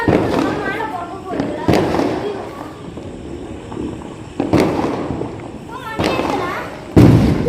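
Diwali firecrackers and fireworks burst around a rooftop at night, loud sharp bangs every second or two over a dense, continuous roar of distant explosions, with people talking.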